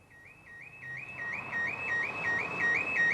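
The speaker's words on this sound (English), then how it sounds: "The villains had somehow triggered the truck's alarm on the way" A truck's alarm ringing near a disused canal-side warehouse on a Hackney street, a repeating rising electronic whoop cycling rapidly and steadily, growing louder over the seconds, moderately distant with no talk.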